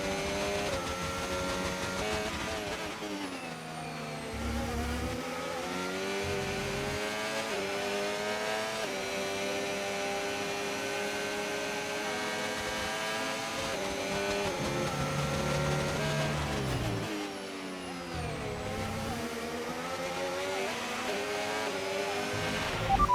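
A Formula 1 race car in the video game F1 25 drives at speed on track, its engine note sweeping up and down in a steady, loud whine with rising and falling pitch through gear changes, and no talking.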